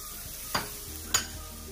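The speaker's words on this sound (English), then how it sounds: "We're going to start adding the bell peppers, the carrots." Bell peppers, carrots and mushrooms stirred in a hot pan, with two short scraping clatters of a utensil over a faint steady sizzle.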